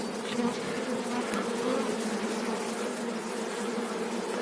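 Honeybees from a drone-laying hive swarm and buzz in a thick, steady drone close by, a continuous humming chorus with no speech over it.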